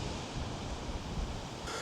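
Strong wind buffets a coastal headland in Wales, a steady, loud broadband roar with gusty swells and no talk.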